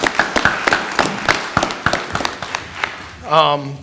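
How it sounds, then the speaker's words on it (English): Sparse, scattered hand claps from a small group at a school district board meeting, with a voice starting to speak near the end. "I think we give a round of applause for that."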